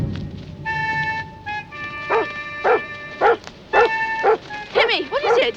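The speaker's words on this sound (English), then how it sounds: "He always barks at them." A dog barks repeatedly in short, loud, uneven bursts in a 1970s television drama, heard close by over sustained background music.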